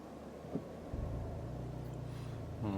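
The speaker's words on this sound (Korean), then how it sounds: "자, 엔진 재시동의 느낌 한번 볼까요?" A Maserati Ghibli hybrid with a 2.0-litre inline-four petrol engine and 48V system restarts, a soft low rumble swelling in after a faint click and settling into a quiet, steady idle hum.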